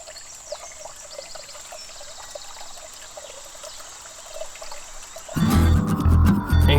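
Water pours and trickles steadily at a Pennsylvania stop, a constant moderate stream that ends in a sudden louder, broadband burst in the last second or so.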